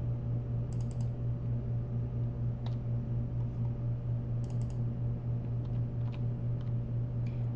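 Scattered bursts of computer keyboard keystrokes as values are typed in, light clicks in short clusters over a constant low electrical hum.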